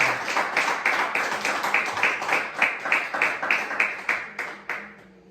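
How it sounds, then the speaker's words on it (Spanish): Congregation at a Spanish-language church service breaks into a strong round of clapping, a dense steady patter that fades out toward the end, with no voices over it. "Denle un fuerte aplauso"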